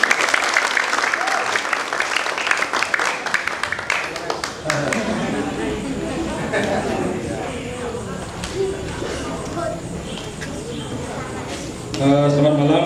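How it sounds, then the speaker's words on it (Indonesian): Audience applause after a wayang shadow-puppet performance, loud dense clapping for about four seconds that thins into crowd murmur and chatter, with a brief voice near the end. "Bisa beri tepuk tangannya sekali lagi."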